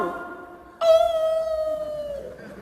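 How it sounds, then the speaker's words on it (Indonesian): A dog howls nearby, one long drawn-out wavering tone rising over faint background noise and fading slowly, with no talk. "Kenapa kalau azan berkumandang suara anjing melolong?"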